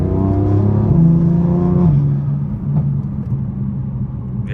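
A BMW F82 M4 with VRSF catless downpipes gives a close, loud exhaust rumble that rises in pitch and then settles back into a lower, steady note, with no voices.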